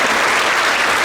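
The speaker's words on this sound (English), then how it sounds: "round of applause for all these people" Audience at a seventh grade winter concert applauding for named student performers, a dense, loud, steady wash of clapping with no talk over it.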